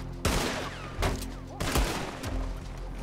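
Gunfire in the Red Dead Redemption 2 video game: three loud, sharp shots at roughly even intervals, each with a ringing tail and rattling echo, heard up close with no talk.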